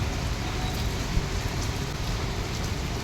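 Heavy rain pours down in a steady, dense roar of drops hitting surfaces, loud and unbroken from start to finish with no voices.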